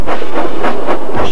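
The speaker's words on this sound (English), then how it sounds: "the snorting engines forced the freight cars up the hill" Steam engines labour up a hill hauling freight cars, giving a steady loud chuffing and rumbling with rhythmic surges roughly every quarter second, close and continuous without voices.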